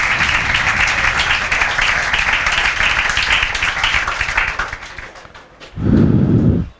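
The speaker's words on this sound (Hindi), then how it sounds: "बजाओ तालियां" Students in a classroom give a sustained round of clapping, dense and fairly loud for about five seconds, then it fades and a short low burst of another noise follows near the end.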